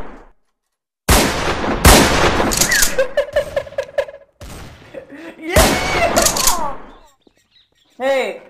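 Rapid bursts of gunfire in a video game, loud and close, coming in several volleys separated by brief pauses, with short electronic game effects between them.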